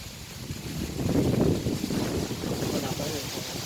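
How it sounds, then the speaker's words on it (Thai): Strong wind gusts through rain outdoors during air conditioner cleaning, a steady, loud, rushing roar that swells slightly midway and never lets up. "ลมมาแล้ว"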